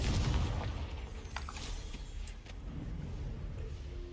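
A Confringo explosion spell from a video game goes off with a loud, low boom at the start, its rumble fading into a sustained noisy wash with a few sharper crackles.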